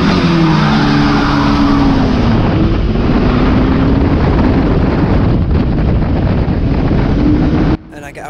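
Stock car engine roaring loud and close at a wet race start, revving hard with rising and shifting pitch as it pulls into second gear, over rain-soaked track noise, before cutting off abruptly near the end.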